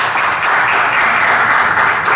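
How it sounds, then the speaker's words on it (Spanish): Audience applause at a Christmas-season ceremony thanking visiting families, a dense steady wash of many hands clapping at even loudness for the whole stretch with no voices on top. "Denle un fuerte aplauso por su apoyo."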